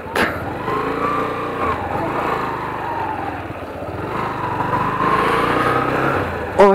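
Yamaha YBR 125 motorcycle pulling away in first gear, a steady, close single-cylinder buzz that rises slightly in pitch as it picks up speed, with no voices.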